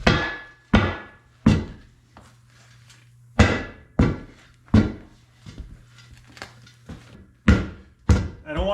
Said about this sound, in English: I'm just going to hammer all this around.